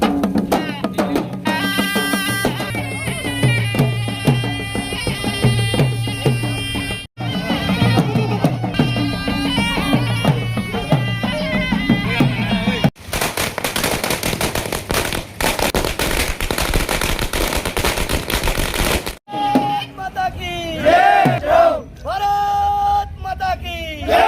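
Firecrackers burst in rapid, continuous crackling volleys during a village celebration in Kadwal, loud and close, with dense popping chains, brief pauses, and crowd noise mixed in.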